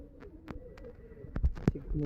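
Girebaaz pigeons cooing softly with low throaty calls and scattered clicks and rustles, a few louder coos near the end, with people talking in the background.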